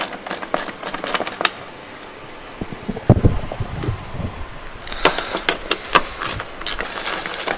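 A hand ratchet works on fasteners while a car is stripped out, bursts of quick clicking strokes in two spells with a quiet pause and a few clunks between, close and clear.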